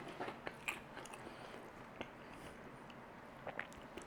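Crunchy fried noodles bitten and chewed close up, with scattered crisp crackling bites and soft chewing, faint and without talk.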